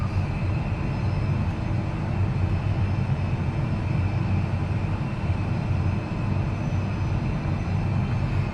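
Steady, loud engine drone of an Airbus A320 climbing toward cruise altitude after departing Muscat, heard as an unbroken roar with no notable changes.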